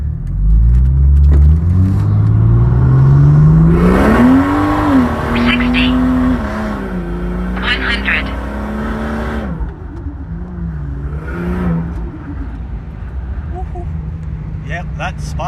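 A 520hp Ford XR6 Turbo pulls hard in second gear on a straight back road, its engine note climbing loud and close with a rising roar that gives way to a brief spin of tyres, while an occupant talks over it.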